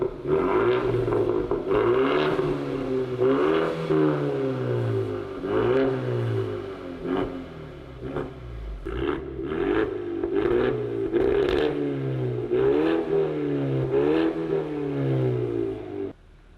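A 2024 Ford Mustang EcoBoost fitted with a Borla ATAK exhaust revs repeatedly, each throttle blip rising and falling in pitch in a steady series of loud, close bursts with a raspy exhaust note.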